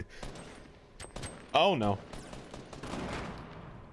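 A brief burst of video-game gunfire, a few sharp shots clustered together, followed by a short exclamation and background game sounds.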